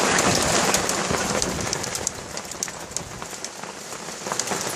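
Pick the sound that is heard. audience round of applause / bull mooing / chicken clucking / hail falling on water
hail falling on water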